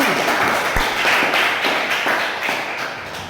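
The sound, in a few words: audience clapping for group 1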